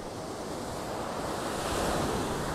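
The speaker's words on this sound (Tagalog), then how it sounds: "Napakalakas po ng alon" Strong ocean waves at Sulok Beach, General Nakar, roar in a continuous, loud wash of surf, with heavy wind buffeting the microphone and no voices.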